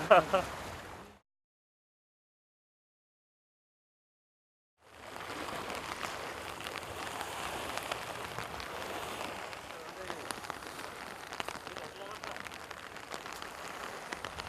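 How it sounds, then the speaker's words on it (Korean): A sudden rain shower during a fishing trip, a steady soft patter of raindrops on surfaces that starts after a brief silence and continues evenly, fairly faint and close. "지금 소나기가 막 오고 있습니다"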